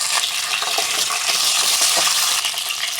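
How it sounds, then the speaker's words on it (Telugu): Mustard seeds, cumin, urad dal and two dried red chillies crackling in hot oil as a tempering for tomato chutney, a bright continuous sizzle with scattered pops, close and loud. "ఆయిల్ వేడైపోయినాక ఇందులోకి కొద్దిగా ఆవాలు, కొంచెం జీలకర్ర, కొంచెం మినపప్పు, ఒక 2 ఎండుమిర్చి వేసుకుంటున్నా"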